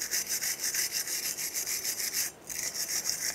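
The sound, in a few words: wire brush scrubbing rust off brake hub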